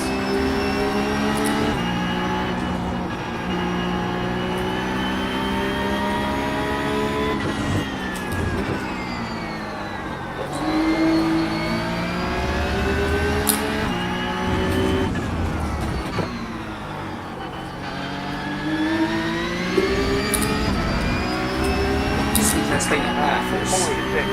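A race car engine at full throttle in the iRacing sim, its loud layered harmonics rising and falling with each shift and corner through the whole stretch, a steady close drone with a voice talking over it.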